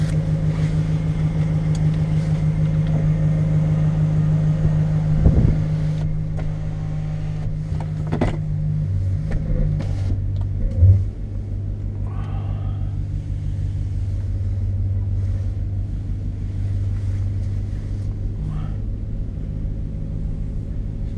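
A 2014 Dodge Ram 1500 pickup with a 5.7 liter Hemi V8 of about 400 horsepower drives along, its engine giving a steady low drone from inside the cab, broken by a couple of brief thumps and shifts in tone.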